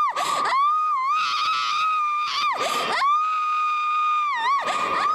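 Loud, piercing screams from a person during a Pentecostal church service, coming in long sustained wails with brief breaks between them, up close and dominating the scene.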